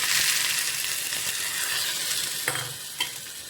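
A hot tempering is poured into fresh coconut chutney in a bowl, Mangalore style. It makes a loud, crackling sizzle that gradually fades, followed by a couple of sharp clinks of the ladle near the end.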